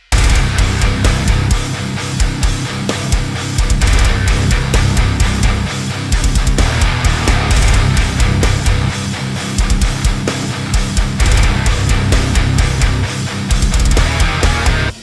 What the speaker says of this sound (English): It's essentially when the left and the right guitar are not doing the same thing.